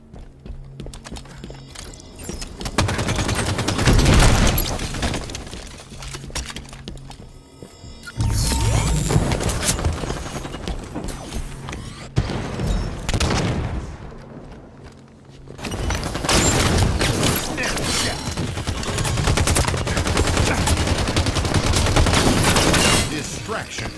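Beam rifle fire in Halo 5: Guardians multiplayer cracks out in loud, sharp bursts with heavy impacts and booms, spread across the match in dense clusters separated by brief lulls, with voices occasionally heard beneath.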